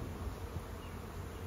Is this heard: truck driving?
no